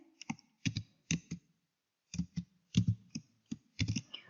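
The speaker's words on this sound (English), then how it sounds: "Then you type in the characters in the image." Bursts of computer keyboard typing, quick clusters of crisp key clicks separated by short pauses, close and clear with no talking.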